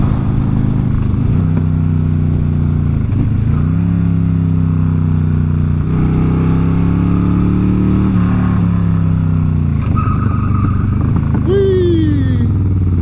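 Heavy 900-pound motorcycle ridden on the road, its engine droning loudly and rising and falling in pitch with repeated revs, close up under wind noise, with a brief voice near the end.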